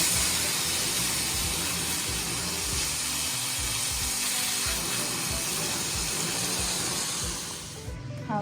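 Pork neck sizzling in a smoking-hot pan, a loud continuous hiss and crackle of frying fat holding steady close up before easing off slightly at the end.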